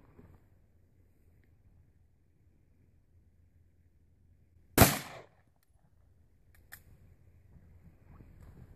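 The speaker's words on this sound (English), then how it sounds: "I'm going to take another shot." A 9mm hollow point round fired into drywall at home-defense testing makes one sharp, loud gunshot midway through otherwise quiet surroundings, with a faint clatter afterward.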